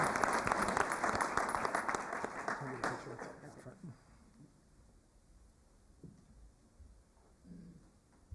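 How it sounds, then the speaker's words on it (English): A council meeting audience applauds loudly for the first few seconds, then the clapping fades into quieter room noise with some speech. "So let's give a round of applause to Alfredo"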